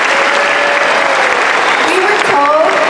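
Continuous, loud applause from an assembly audience honoring a guest, dense clapping throughout with a voice briefly audible over it near the end.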